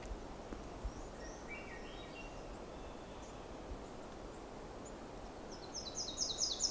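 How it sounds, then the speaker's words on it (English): A Nashville Warbler sings outdoors among rustling leaves. A few faint, distant high chirps come first, then a brighter, closer burst of rapid repeated notes at the end. "This is sounding like Nashville Warbler here too."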